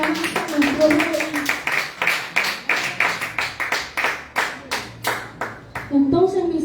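A church congregation claps in praise to God, steady rhythmic clapping of many hands in an even beat, with voices speaking and calling out at the start and end.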